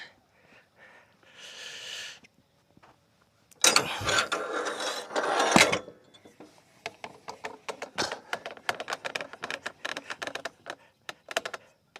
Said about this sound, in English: Let's get a clamp on it and then adjust them